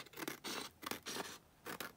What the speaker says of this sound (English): So I'm just going to trim this down at the top.